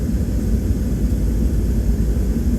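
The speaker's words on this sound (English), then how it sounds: "right there you have an American Airlines plane pulling onto the runway" A steady, dense engine rumble from an American Airlines jet pulling onto the runway at Phoenix Sky Harbor before takeoff, heard from inside a nearby aircraft cabin as an unbroken low roar.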